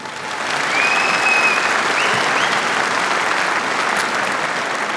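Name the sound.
audience applause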